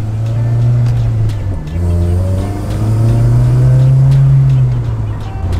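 An Acura RSX with an electric power steering conversion drives on the road, its engine droning loud and steady from inside the cabin, the pitch rising and falling gently as it cruises.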